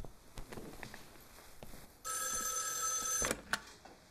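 An old-style telephone bell rings loudly in one sustained burst after a few quiet footsteps and knocks, then cuts off abruptly when the receiver is picked up.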